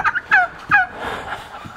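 Wild turkeys gobble loudly and close by in three quick rattling bursts outdoors near a van, trailing off into softer clucks and rustling.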